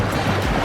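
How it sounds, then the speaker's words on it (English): Big ocean waves crashing at a beach, a loud, dense roar of surf with wind buffeting the microphone throughout, heard close and unbroken. "I don't know if you can hear because the waves are really big"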